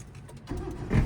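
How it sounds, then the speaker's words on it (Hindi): A car engine turning over and catching as the ignition key is turned during a beginner's driving lesson, a short low rumble that swells into a steady idle close by. "अब इंजन स्टार्ट हो गया है"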